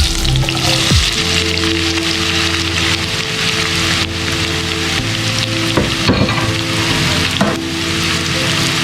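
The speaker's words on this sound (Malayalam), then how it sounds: "നെയ്യൊക്കെ ഉരുകി വന്നിട്ടുണ്ട്. അപ്പോൾ ഇതിലേക്ക് അരിഞ്ഞു വെച്ചിട്ടുള്ള സവാള ഇട്ട് കൊടുക്കാം." Sliced onions frying in melted ghee for a chicken ghee roast, a loud, close, steady sizzle with intermittent clinks and scrapes of stirring.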